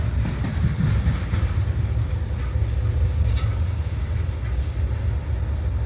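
A long freight train rumbles past at a rail crossing, a loud continuous low roar with faint rattling of cars throughout and no voices.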